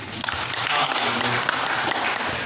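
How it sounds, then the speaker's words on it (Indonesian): A church congregation at a sermon claps together in a brief burst of applause, a dense wash of hands that holds steady throughout, with some faint voices mixed in. "Tepuk tangan dulu untuk Mega."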